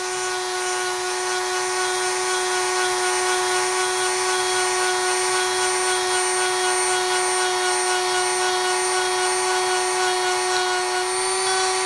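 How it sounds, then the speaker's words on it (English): A drum sander sanding a large wooden bowl whirs continuously with a steady high-pitched motor whine, loud and close, running unbroken for the whole stretch without any talking. "I've switched over to a drum sander now. Just further refine that."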